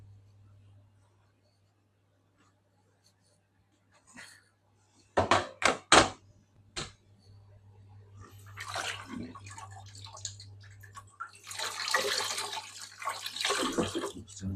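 Cold running water washes over cured salmon, a broad hissing splash that swells and falls in bursts after a few sharp knocks, with a steady low hum throughout and people talking now and then.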